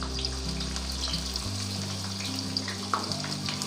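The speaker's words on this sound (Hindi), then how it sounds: "ये देखें ऑयल हो गया गर्म और इसमें मैं प्याज डालने लगी" Chopped onions sizzle steadily in hot oil for a mixed vegetable dish, a close, continuous frying hiss with no talking.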